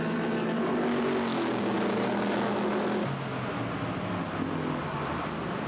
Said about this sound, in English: Quattlebaum hurling it through the tight turns here at Zolder